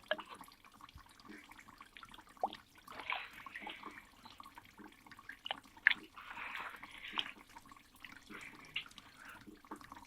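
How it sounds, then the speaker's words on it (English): Hands churn hard clay in a container of water, giving faint, soft sloshing and swirling splashes in irregular bursts, with quiet drips between, close and low in level. "Hands dig deep into a container filled with water, bringing handfuls of hard clay to the surface before letting them go again."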